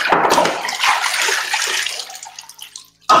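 Bathwater splashing and sloshing as soap goes into the tub, a busy run of close, loud water noise that fades to near silence before a short burst at the end.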